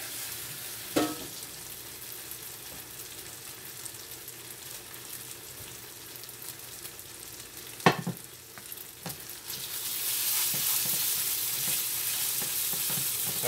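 Chicken sizzles and fries steadily in a pot, with occasional sharp clanks of stirring. The frying grows louder and brighter near the end.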